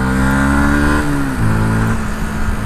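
A Yamaha MT-125 motorcycle with a lively 125 cc engine revs loudly and close up. Its steady tone dips in pitch about a second in, then settles into a sustained idle-like drone, with no talking.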